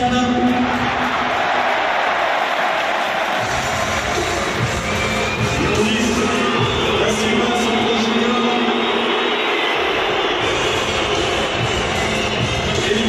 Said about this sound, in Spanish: el Parque de los Príncipes retumbaba con abucheos y silbidos